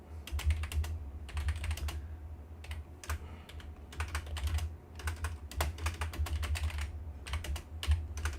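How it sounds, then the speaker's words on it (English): Steady, rapid typing on a computer keyboard during a mod coding session, with dense clusters of close key clicks broken by brief pauses, no talking. "why am I typing this?"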